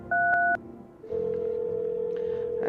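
Telephone keypad dialing tones in a phone roulette video game: three short touch-tone beeps, then a brief pause and a long steady ringing or connecting tone.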